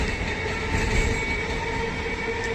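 A local commuter train rumbles past a station platform at Dum Dum Junction at close range, a steady roar of wheels and carriages with no pauses and no voices.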